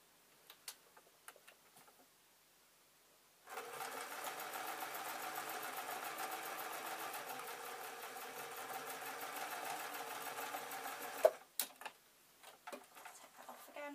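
A domestic sewing machine stitching an owl appliqué runs steadily for about eight seconds at moderate volume, a fast even mechanical whirr. Small clicks and handling noises come before and after.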